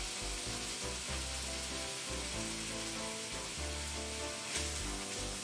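Breaded chicken and sausage-bacon pieces warm up in a still-hot pan on a switched-off burner, a faint steady sizzle and crackle with low rumbling underneath, continuous and without talk.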